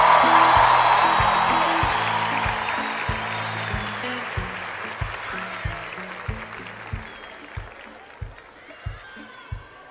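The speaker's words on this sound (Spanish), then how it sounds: "A ver, démosle el aplauso." Audience applause at a televised concert, a dense burst of clapping that starts loud and gradually thins out, with steady rhythmic clapping continuing beneath a soft backing melody.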